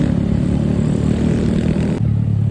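A scrambler-build motorcycle engine runs steadily nearby, a continuous low droning rumble with a brief dip in tone near the end, no voices over it.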